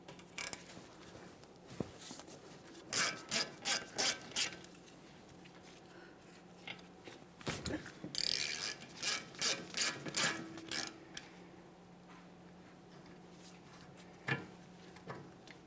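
A 17mm ratchet wrench loosens and removes the front brake caliper slider bolts on a 1994-1997 Honda Accord, giving bursts of quick ratcheting clicks and metallic rubbing close up.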